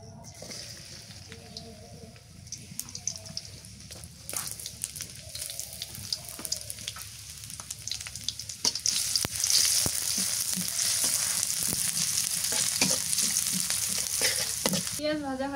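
Chopped onion dropped into hot mustard oil in a kadai, a sudden loud sizzle that swells midway and holds steady with stirring clatter, after a quieter stretch with a voice speaking.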